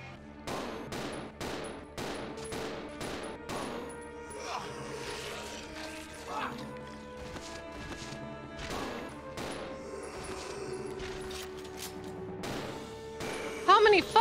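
Gunfire in the video game Resident Evil 0, a rapid series of sharp repeated shots at a steady clip, loud and close over game background sound, with a brief louder burst at the end.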